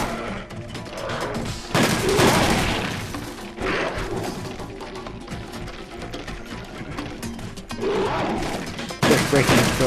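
Pellet gun shots fired in the Monster Hunter video game, a few loud bursts standing out over busy game music and effects, with talk alongside.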